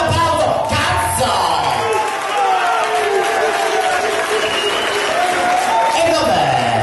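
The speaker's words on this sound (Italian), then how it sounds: "Ma lo facciamo un applauso" Loud, sustained applause from a circus audience fills the space, with scattered whoops and shouting voices mixed into the clapping throughout.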